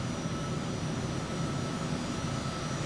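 A steady, droning airplane engine from the Microsoft Flight Simulator video game while flying over Rome, an even, unbroken roar with no pauses or changes.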